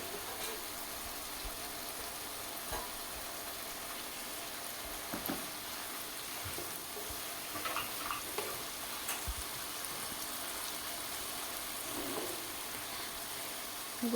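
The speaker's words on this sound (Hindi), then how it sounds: "अभी मैं इसको खूब अच्छी तरह भून रही हूँ" Potatoes and spinach sizzle steadily in a pan, with a soft continuous hiss broken by occasional stirring scrapes and taps, close and fairly quiet.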